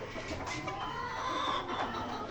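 Chickens cluck continuously at a fancy ornamental poultry farm, a steady dense flock chatter with some louder calls close by and no talk.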